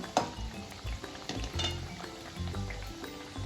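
Alu vadi frying in hot oil in a home kitchen, a steady close sizzle broken by repeated stirring and scraping clatters from a pan.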